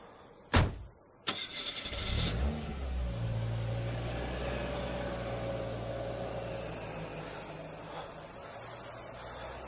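Two sharp clicks are followed by a car engine cranking and catching, then settling into a steady low idle that continues to the end.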